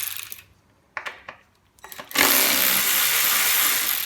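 A Sealey ratchet works on a Suzuki Carry 1.3 16v engine during a strip-down. A few sharp metallic clicks are followed by a loud, sustained mechanical whirr close by.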